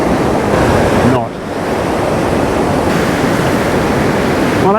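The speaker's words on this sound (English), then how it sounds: "it's just the water that's coming over the rocks" A mountain stream rushes over rocks in a loud, continuous broadband roar, close to the microphone with some wind buffeting, briefly dipping before resuming steadily.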